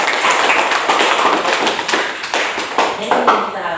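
A classroom of students clapping hands together in a loud, close, dense burst, with irregular rhythmic accents in the claps and no talk over them.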